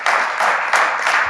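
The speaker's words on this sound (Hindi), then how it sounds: "सब लोगों के जो तालियां बज रहे" Applause from an audience at a Holi celebration, a steady wash of many hands clapping with slight surges, continuous and moderately loud across the short stretch.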